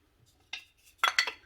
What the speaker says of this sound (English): You just use a sharp knife and cut the little block down into these little pieces.